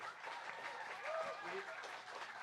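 Jazz concert audience applauding at an International Jazz Day celebration, continuous clapping with some crowd voices and faint whoops mixed in.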